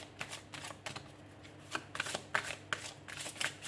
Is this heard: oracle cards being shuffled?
yes